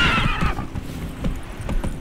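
A horse ridden in The Witcher 3: Wild Hunt gives a whinny and then a run of clip-clop hoofbeats, close and steady, with no talk over it.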